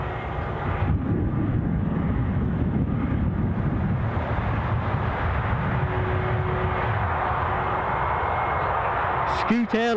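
A Scoot Airlines airliner passes near an airport, a sustained loud jet rumble that swells and shifts in tone as it goes by, with some wind buffeting and talk over the noise.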